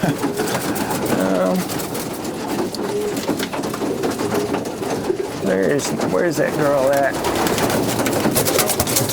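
Racing pigeons coo in a loft, soft murmuring calls scattered through a steady background, with someone talking close by over much of it.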